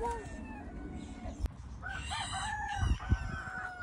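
At a poultry farm keeping thousands of birds, a rooster crows nearby while hens cluck and chatter around it, over a steady murmur of farmyard background.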